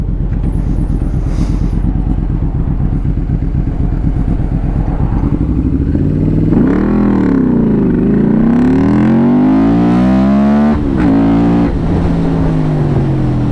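A 1989 Yamaha V-Max 1200 motorcycle idles steadily, then its engine roars up through rising revs, sweeping up and down with gear changes as it accelerates hard from a standstill to 100 km/h, loud and close throughout.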